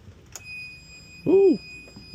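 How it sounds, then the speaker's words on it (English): An alarm sounds as an engine is cranked on a 12-volt replacement setup: a steady high electronic tone runs throughout, with a short loud burst of tonal whine partway through. "Ooh, we have alarms."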